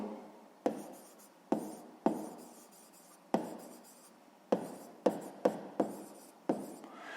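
A pen writes a math answer on paper in a quiet room, making a series of separate, close scratchy strokes, each starting sharply and trailing off, with short pauses between them.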